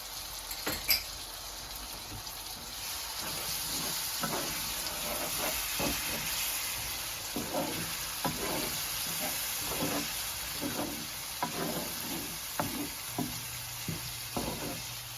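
Chicken pickle sizzling in a pan while apple cider vinegar, chili powder and mustard are added and stirred, a quiet steady hiss with rhythmic stirring scrapes, no talking.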